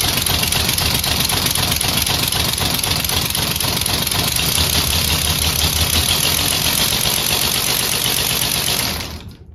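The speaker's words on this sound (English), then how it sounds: "it starts easily every time you turn it on, no matter in what position it's in" A homemade air-powered car engine runs on 75 PSI of compressed air with a fast, even, loud mechanical chatter and hiss, continuous and close, then dropping away at the very end.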